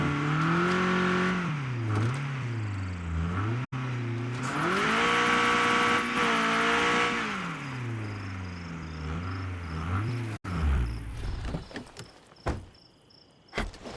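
A car driven in the video game State of Decay 2, a loud nearby engine revving up and down in swells, then cutting off and giving way to clunks and a door-like thud.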